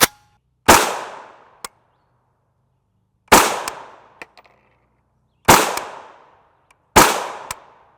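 An FN PS90-style rifle built on an Imperial Arms receiver fires 5.7x28mm Hornady Critical Defense 40gr FTX rounds: four loud, sharp shots, each with a ringing decay, spaced unevenly a couple of seconds apart with silence between.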